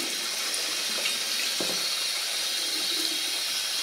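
Warm tap water running onto a leather shoe to wet it, a steady hissing stream with a brief splashy disturbance midway, close and continuous.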